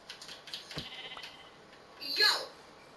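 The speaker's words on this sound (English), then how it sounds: "Oh, there's quite a few of these sheep." Sheep bleating in the video game Minecraft, a short bright bleat standing out near the end after a stretch of quieter game noise and faint talk.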